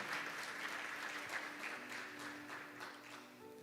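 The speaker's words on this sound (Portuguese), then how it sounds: "Dê um aplauso ao Senhor Jesus" Applause from a church congregation, a fairly soft, steady wash of many hands clapping heard at a distance with no talking.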